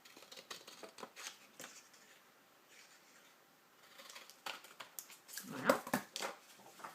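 Scissors snipping tree-trunk shapes out of a paper card for a pop-up Christmas card, a series of close, quiet, irregular crisp cuts and paper rustles, louder near the end.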